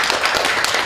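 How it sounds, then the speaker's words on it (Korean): Audience at a Korean public debate forum clapping in welcome for a newly appointed union branch leader; dense, steady clapping from a room of people across the whole brief moment, fairly loud with no talking. "박수 한번 부탁드립니다"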